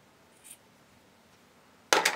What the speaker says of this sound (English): I'm going to clip out little triangles.